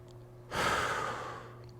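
A single deep, loud breath during a split squat hold in a warm-up workout, rising suddenly after a pause and trailing off slowly, close and alone.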